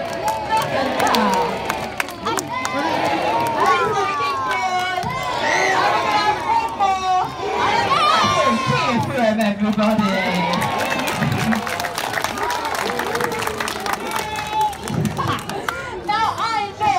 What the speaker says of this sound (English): everybody, you need a big cheer for him